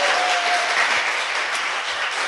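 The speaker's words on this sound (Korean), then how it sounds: "최문순 당선. 박수!" Loud, dense applause from a live studio audience during a Korean political talk show segment, continuous and steady throughout without any speech.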